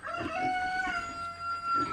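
Chickens on a pig farm, with a rooster crowing and hens clucking at moderate distance, steady and unbroken through a short stretch of farmyard ambience.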